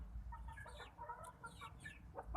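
Chickens cluck and chatter softly on a rooftop, a run of quick overlapping calls at moderate distance over low rumbling background noise.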